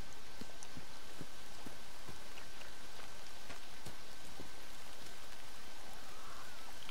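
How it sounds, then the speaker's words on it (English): Steady rain pours in the Metro Exodus game, a dense hiss with scattered sharp drop ticks throughout, constant and fairly loud with no voices. "It's raining again."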